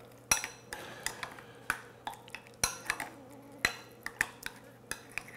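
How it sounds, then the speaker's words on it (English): Salt and curry seasoning being stirred into a dish, a spoon scraping and clinking against a pot in a steady run of sharp, close taps and knocks with no talking. "Get that all stirred up."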